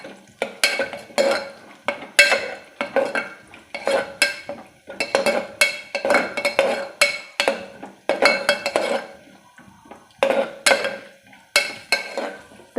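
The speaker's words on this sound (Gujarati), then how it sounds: "કાજુ બદામ શેકી લઈએ." Cashews and almonds roast in a pan, stirred with a utensil in rhythmic bursts of scraping and rattling, the nuts clattering against the metal with brief quiet gaps between strokes, close and fairly loud.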